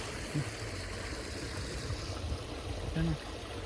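Water pumped by an electric motor rushes steadily into a village farm irrigation channel for onion sowing, a continuous close trickling flow with a few voices briefly over it.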